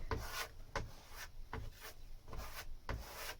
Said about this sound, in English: Put it on, scrape it in both directions, couple of directions